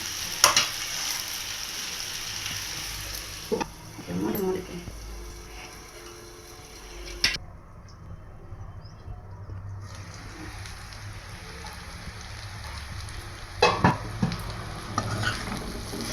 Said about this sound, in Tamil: நல்லா கிண்டிக்கலாம் வந்துடும் அடிக்கடி இப்படி கிண்டிக்கிட்டாலே அடிப்பிடாது